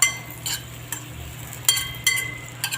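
Vegetables sautéing in margarine in a pan, a soft sizzle under repeated scraping stirs and light clinks of a utensil against the pan, close and irregular.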